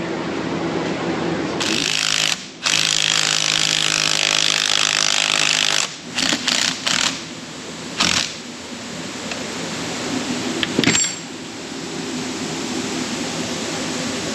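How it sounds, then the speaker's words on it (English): A loud power tool cuts out metal tabs for a transmission mount, grinding in long sustained runs, broken by short pauses and brief bursts near the end. "We're cutting tabs out for Rory's buggy for the transfer case"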